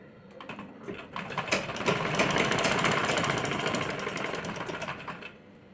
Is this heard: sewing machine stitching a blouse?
yes